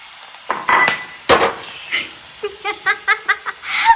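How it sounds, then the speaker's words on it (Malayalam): Hot oil hisses and sizzles steadily while a utensil stirs and clinks against a pan in short repeated scrapes. "നമ്മൾ എണ്ണ ചൂടായിട്ടുണ്ട് നമുക്കിത് ഇതിട്ട് വറുത്തെടുക്കാം"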